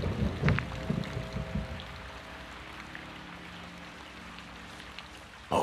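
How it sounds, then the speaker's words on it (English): Heavy rain in Call of Duty: Modern Warfare 2 (2022) falls as steady, faint hiss, with a few louder patters and thuds early on, then a sharp hit at the very end. "It's raining fucking hard."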